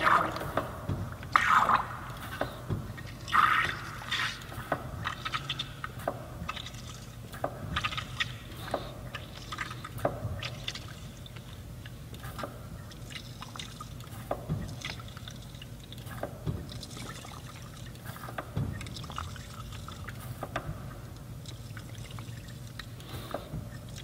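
The master cylinder piston is cycled again and again during a brake bench bleed. It gives a string of soft squishing pumps and gurgling, liquid clicks at an irregular, fairly quiet pace.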